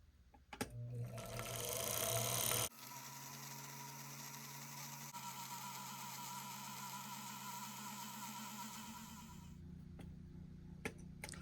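A Wizard sewing machine winds a bobbin with a steady mechanical whir and faint ticking, a louder, higher burst early on, then an even, continuous run at close range with no talking.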